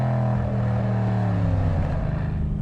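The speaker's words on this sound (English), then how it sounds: "Nice little burble on the downshift there." A Mercedes-AMG C63S with a tuned bi-turbo V8 gives a deep, rumbling exhaust burble as it downshifts, loud and close, the low drone dropping in pitch and carrying on alone.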